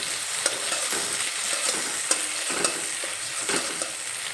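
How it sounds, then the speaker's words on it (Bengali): An egg is broken up and fried with a metal spatula in a pan while cooking kakrol, giving a steady close sizzle with repeated scraping and stirring strokes, and no voices. "এখন এই খুন্তি দিয়ে ডিমটাকে একটু ভেঙে নেব,"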